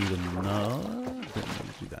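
Water is placed in the Minecraft video game while building a sugar cane farm, giving a short pouring, trickling splash. A voice is heard talking at the start.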